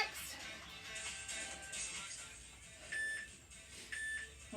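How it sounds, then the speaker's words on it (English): Two short, faint electronic beeps about a second apart, like a timer counting down, over a quiet hiss of background noise. "Go to the end of the beeps and rest."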